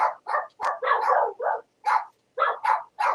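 A string of short, sharp dog barks, about a dozen in quick irregular bursts with brief gaps, fairly close and clear with no talking.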